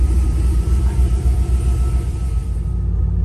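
A turbocharged LS-swapped Crown Victoria with an electronic exhaust cutout idles with a deep, loud, steady rumble, close up and alone.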